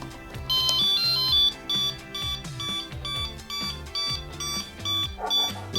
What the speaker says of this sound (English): that beeping should mean that the hoverboard thinks that it's backwards